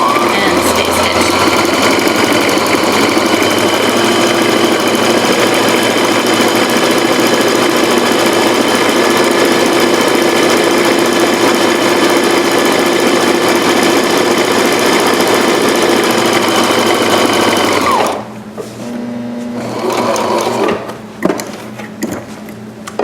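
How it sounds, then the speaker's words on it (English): A sewing machine stay-stitches the inseam of pyjama pants, running in one long loud, steady burst for about eighteen seconds, then stopping, followed by quieter handling noises and a few clicks. "now I'm going to stay stitch the inseam"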